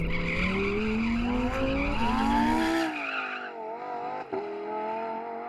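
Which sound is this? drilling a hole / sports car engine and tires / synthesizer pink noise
sports car engine and tires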